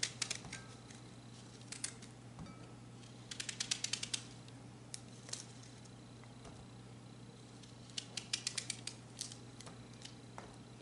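Knife slicing through turnips on a board in a home kitchen, sharp clicking cuts in quick bursts of several strokes separated by pauses, close and fairly quiet over a steady low hum.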